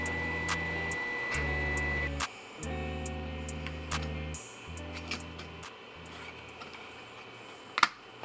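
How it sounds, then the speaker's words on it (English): A 3D printer runs with stepper motors whirring in stepped tones that change pitch every second or so, plus occasional small clicks and ticks, no talking. "now you're ready, and the printer should start printing very soon"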